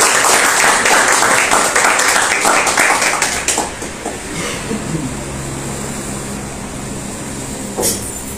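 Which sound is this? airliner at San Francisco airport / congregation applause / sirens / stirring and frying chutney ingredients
congregation applause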